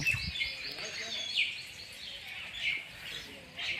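Small birds, pigeons and sparrows, chirp intermittently at a distance beside farm fields, thin repeated tweets over a quiet outdoor background.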